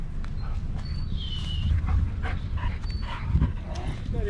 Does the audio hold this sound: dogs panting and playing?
yes